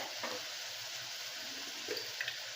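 Coriander, mint and tomatoes sautéing in a pan for a cabbage soya pulao, giving a steady, soft sizzle with a few faint stirring clinks, close and alone.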